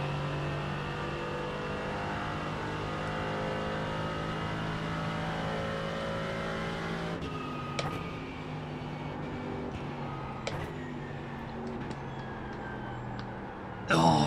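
LMP3 prototype race cars in a racing video game drone steadily with layered engine tones, a sustained mid-level roar that shifts around the midpoint as cars close in and pass, with brief sharp clicks and a louder burst at the end.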